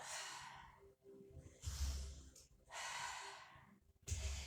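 Deep breaths during a Pilates exercise: a series of close, airy inhalations and exhalations with sharp nasal intakes and brief pauses between them.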